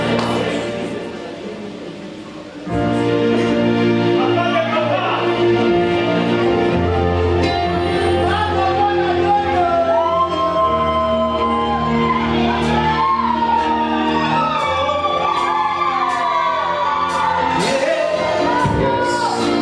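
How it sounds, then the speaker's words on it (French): Crowd at a blessing ceremony for a couple cheering and whooping loudly, steady and sustained, with music or shouting voices mixed throughout after a brief quieter opening. "On l'acclame, merci. We applaud you."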